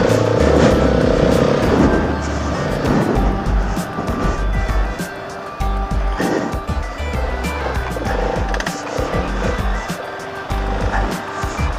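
A trail motorcycle ridden off-road on muddy tracks near a castle, engine droning and revving steadily close to the rider, with bumps and rattles over rough ground throughout.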